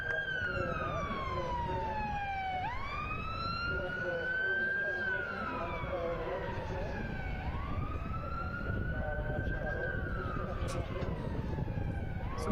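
Wailing sirens sweep up and down in long, repeated cycles across an athletics stadium during a junior para championships, loud and steady throughout, with faint crowd and announcer sounds underneath.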